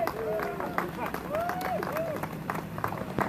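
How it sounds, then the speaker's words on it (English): An audience at a Welsh event applauds a former Carmarthen MP, a modest round of clapping heard under a voice and crowd chatter, with scattered sharp claps standing out. "Give a big round of applause"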